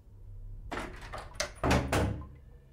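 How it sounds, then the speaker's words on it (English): Door closing in the horror game Incantation: a short burst of knocks and rattles ending in two heavier thuds, close and fairly loud over a low hum. "Close the door."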